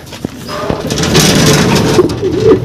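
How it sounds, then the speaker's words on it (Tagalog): Pigeons being raised in a loft coo softly and repeatedly, with low rounded calls recurring through a steady hum of background noise; no one speaks. "Mga anak nila yung susukan natin ngayon mga kalapatids."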